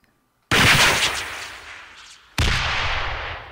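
Gunfire in the Xbox 360 video game Breach, two loud, close blasts, each a sharp crack followed by a long crumbling decay of debris, the second arriving about two seconds after the first, with no voices.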